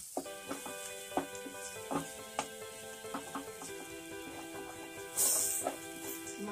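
Cumin, turmeric and red chili powder roast and sizzle in a pan for chickpea chole, a soft steady crackle broken by scraping stir strokes and clinks, with a brief louder hiss near the end.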